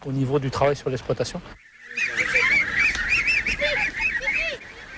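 A flock of geese raised for foie gras honks loudly and continuously on a farm, nasal calls overlapping in a noisy chorus nearby.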